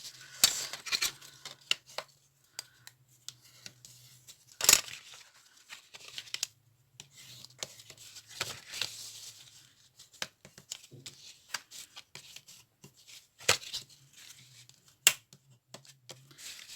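Paper is folded and creased by hand to form a small gift box, giving quiet, scattered crisp snaps and rustles at an irregular pace, close and soft, with silent gaps between the presses.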